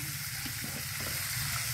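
Meat sizzling in a pan while cooking outdoors in the countryside, a steady broadband frying hiss at moderate distance with faint background activity and no talk.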